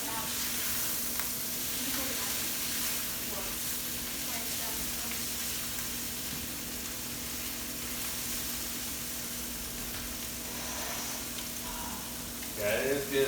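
Pita bread warming in a skillet with already-cooked gyro meat gives a faint, steady hiss and soft sizzle throughout, fairly quiet and even, with a few light clinks and scrapes near the end.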